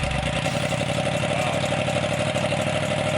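A 2015-onwards Yamaha R1 motorcycle engine running with its rear silencer removed, a loud, close, steady raw rumble with a harsh buzzing edge and no other sounds.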